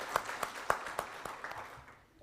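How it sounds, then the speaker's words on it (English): Sparse, scattered hand claps at moderate distance, a few distinct slaps fading out toward the end, with no talking over them. "I think we deserve a round of applause for ourselves"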